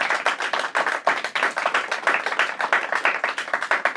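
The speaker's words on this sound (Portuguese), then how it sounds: "Palmas para eles." An audience at a quiz event claps for the winning team, a brisk, dense round of hand claps with an uneven rhythm that keeps going for a few seconds at close range.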